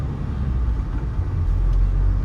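Steady road traffic passing nearby, a continuous low engine rumble and tyre roar from cars and heavier vehicles, loud and unbroken throughout with no voices.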